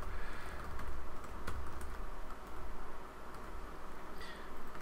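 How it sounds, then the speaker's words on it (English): Continuous close typing on a computer keyboard, a busy stream of light clicking keys held against steady background hum, with no speech. "let's just type in some stuff here"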